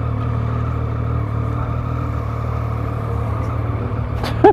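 A car's engine roars steadily in a continuous revving burnout on a street in Curitiba, with a brief squealing tire screech rising near the end.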